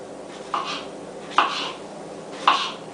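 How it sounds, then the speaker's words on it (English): A knife cuts quartered peaches into big chunks for a peach blackberry crisp, three separate soft taps on a board about a second apart, close and quiet with no talking. "I'm just going to cut nice big chunks"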